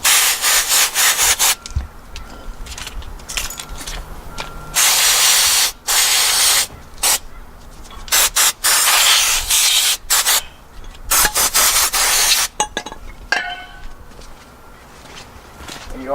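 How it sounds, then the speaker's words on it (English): Brake cleaner from AutoZone sprays down the brake bolts in a rapid series of close, loud hissing bursts, some short and some lasting over a second, with a brief pause near the end. "I'm gonna spray down the bolts too."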